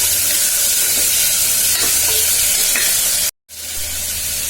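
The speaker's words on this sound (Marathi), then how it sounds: "आता ह्याच्यामध्ये सगळ्या भाज्या घालून घ्यायच्या. चांगलं परतून घ्यायचं." Vegetables sauteed in a little oil for a drumstick soup hiss loudly and steadily, a dense close sizzle that cuts out for a brief silent gap before resuming at the same level.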